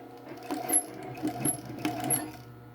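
A sewing machine stitches a fabric face mask in short bursts of fast mechanical whirring and needle clatter, with brief pauses between runs, close and fairly loud, with no talk.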